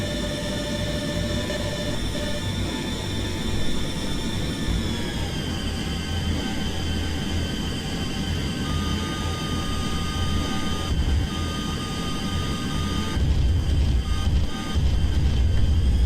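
An A-10 attack jet at full throttle in a flight combat video game gives a steady, loud, continuous whine with droning engine tones, shifting slightly in pitch partway through and swelling near the end, with no talk.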